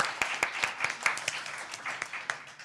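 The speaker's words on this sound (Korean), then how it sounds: "네, 박수 부탁드리겠습니다" An audience at a Korean panel discussion applauds, with a steady, close patter of many hands and sharper individual claps standing out, lasting under three seconds.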